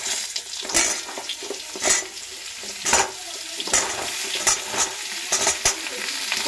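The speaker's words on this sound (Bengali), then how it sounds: "কুমড়ো আর আলু দিয়ে একটুখানি নাড়াচাড়া করব।" Pumpkin and potato pieces stirred in a frying pan give a steady sizzle broken by regular scraping stirs about once a second, close and fairly loud, with no talking.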